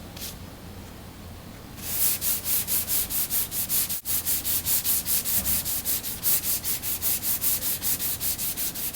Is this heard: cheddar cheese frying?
no